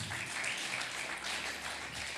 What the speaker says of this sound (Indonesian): Katakan amin, tepuk tangan buat Tuhan.